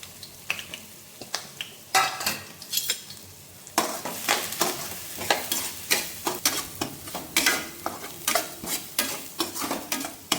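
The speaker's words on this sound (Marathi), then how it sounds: "छान असं आपण तेलात भाजून घेऊया" A paste of ground coconut, garlic and coriander roasts in hot oil with cumin and asafoetida, sizzling softly while a spoon scrapes and stirs the pan in rhythmic, repeated clinks, close and alone.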